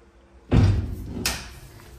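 Double gate doors on the ramp of a reconditioned AP Petit horse truck swing open with a loud clunk, followed by a second sharper latch or metal knock a moment later, close by with no talking.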